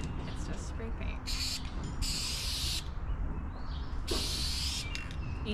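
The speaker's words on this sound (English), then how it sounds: "It's just spray paint." Three separate hissing bursts of spray paint on a 1932 Ford three-window pedal car, each lasting under a second, over steady background noise.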